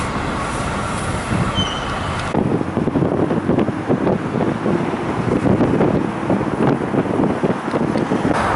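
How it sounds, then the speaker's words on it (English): Strong gusting wind buffets an outdoor microphone on Vasilyevsky Island in Saint Petersburg on a cool October day, a dense roaring rumble that grows louder after a brief calmer start and keeps surging without letup. "The wind is becoming more and more intense, as I can notice."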